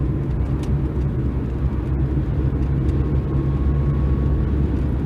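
A 1979 Honda Accord 1.6 with a five-speed gearbox drives along a road, giving a steady, loud low rumble of engine and road noise inside the cabin with no talking.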